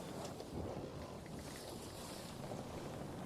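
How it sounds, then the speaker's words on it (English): Waves crash against the side of a ship and its sails billow, making a steady, close wash of wind and water with no talk. "You just hear the waves crashing against the side of the ship. The sails billowing."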